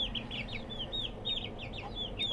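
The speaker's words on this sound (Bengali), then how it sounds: "সাদা টাইগার মোরগ মুরগিগুলো" Tiger-breed and local deshi chickens on a rooftop farm give soft, repeated clucks over a low background hum, moderately near and fairly faint.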